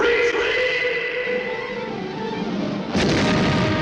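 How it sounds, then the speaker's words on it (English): A loud cartoon cannon blast from the 1950 Looney Tunes short Bunker Hill Bunny: a sustained rumbling roar followed by a sharp boom near the end. "he's just shot out of the cannon"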